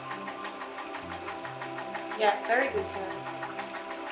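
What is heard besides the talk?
sewing machine stitching fabric for a skirt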